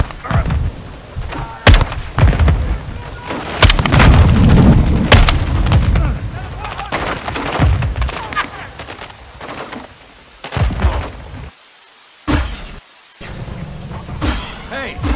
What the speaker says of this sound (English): They're launching grenades!